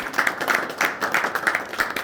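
A small crowd at a village Murrah buffalo milking contest in Talwandi Rana, Hisar, claps in a brief, uneven burst of hand claps, moderately close, with faint voices underneath.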